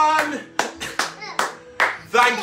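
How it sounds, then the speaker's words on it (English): Sharp hand claps ring out about once every half second amid excited children's voices and chatter, close and lively. "Big round of applause"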